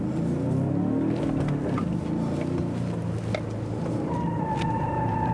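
A 2019 Genesis G70 2.0T with a six-speed manual on a go-kart track handling course, a continuous engine drone with rising and falling revs under acceleration, heard steadily from inside or near the car.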